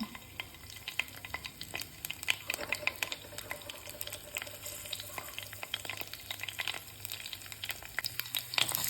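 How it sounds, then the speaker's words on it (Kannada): Green chilies hitting hot oil in a pan while making a potato and onion palya, giving a steady close crackle and sizzle with scattered pops and clinks throughout, no voices. "ಎಣ್ಣೆ ಕಾದಿದೆ, ಅದಕ್ಕೆ ಹಸಿಮೆಣಸಿನ್ಕಾಯಿ ಹಾಕ್ತಾಯಿದ್ದೀನಿ"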